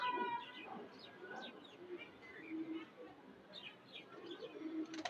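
Pet pigeons in a collection coo softly and steadily, with scattered chirps from other birds nearby and someone talking over them.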